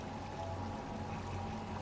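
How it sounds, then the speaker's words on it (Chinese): An underground river flows with rushing water, a steady low churning and gurgling stream that is faint and continuous, heard alone. "这里有水声，水流湍急"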